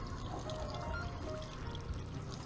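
Water pours steadily into a sink in Job Simulator, a continuous soft splashing stream at low volume with no talk.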